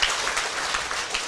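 Dense, steady audience applause filling a seminar hall at a Taiwan civil government senior administrative training session, loud and close, with no voices over it.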